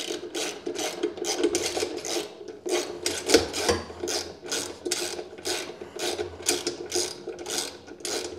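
A socket wrench ratchets 10 mm bolts on a Dr Heater DR-368 infrared garage heater, producing close, rhythmic clicking strokes repeated steadily at about one per half second, each a short raspy burst of pawl clicks.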